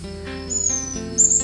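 An orange-headed thrush sings a quick, high, sweet phrase with a couple of sharp whistled notes, close and clear over a steady humming background.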